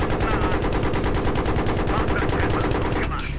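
Rapid automatic gunfire in Battlefield 3 rattles without pause for about three seconds, loud and close, a fast even stream of shots that cuts off abruptly near the end.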